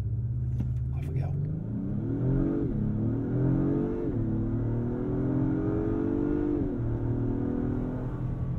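Interior engine note of a 2022 Acura MDX Type S accelerating hard in sport plus mode: a moderate, smooth rising drone that climbs through several gear shifts, each marked by a brief dip before it pulls up again.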